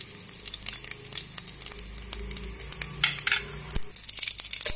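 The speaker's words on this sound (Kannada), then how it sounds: "ಉದ್ದಿನ ಬೇಳೆ ಸ್ವಲ್ಪ ಫ್ರೈ ಮಾಡ್ಕೊಂಡು." Urad dal frying in hot oil in a pan, a steady crackling sizzle with scattered pops and occasional stirring scrapes, close and fairly loud with no voices.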